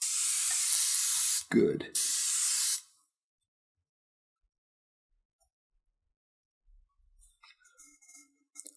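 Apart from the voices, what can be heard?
spray bottle misting a watercolor palette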